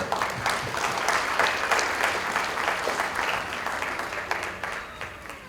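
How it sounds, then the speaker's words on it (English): An audience at a charity foundation event breaks into applause, a full, lively clatter of many hands that holds strong and then gradually thins out near the end. "I think that's worth an applause."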